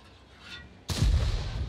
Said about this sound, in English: There's a shot into him as our TS-5 takes another hit.